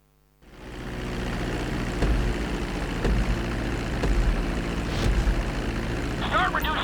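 A propeller airplane engine drones steadily during a flight school landing in the video game GTA V, a loud continuous hum that starts abruptly and holds with slight swells, with faint chirpy effects near the end.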